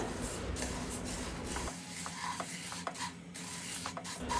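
Fresh, crisp puffed rice being roasted in ghee for chikki, a soft dry rustle and scraping stir close by, with faint crackle and quiet background tones.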